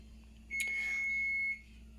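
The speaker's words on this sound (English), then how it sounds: "that's the oven beeping for the last ones already" One sustained electronic beep from an oven timer, about a second long, rings clearly over a faint steady hum.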